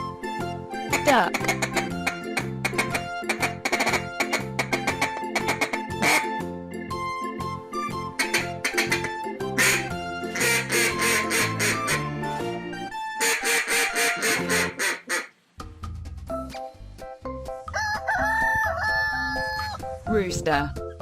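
Farm duck quacking in a children's nursery farm-birds piece, a series of quacks over a bright, busy backing music track.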